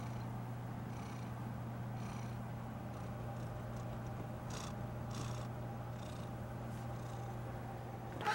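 A tired house cat purrs steadily and close by, a continuous low rumble running unbroken throughout with faint background sounds above it.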